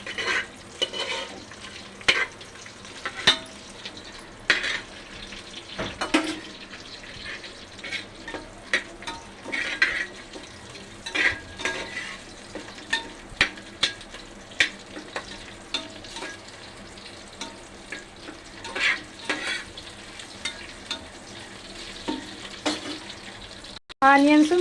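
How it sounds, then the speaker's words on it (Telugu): Green chillies and onions fry in a pan with a constant sizzle, while a spoon scrapes and knocks against the metal at irregular intervals, and a sharp clatter comes at the very end. "నెక్స్ట్ వచ్చి పచ్చిమిర్చి వేసుకోవాలి ఫ్రెండ్స్. ఇవన్నీ కలపాలి. దోరగా ఫ్రై అయ్యేంత వరకు వేయించుకోవాలి"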